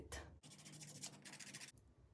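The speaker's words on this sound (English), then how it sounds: "Then use a nail file and adjust it." A steady dry rasping, like a file worked back and forth across a nail, in short close strokes with brief pauses between them.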